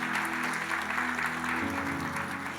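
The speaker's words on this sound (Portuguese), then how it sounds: "Pode aplaudir a Jesus por isso." A church congregation applauds during a worship service, steady moderate clapping spread across the room for a few seconds, with a held musical tone underneath.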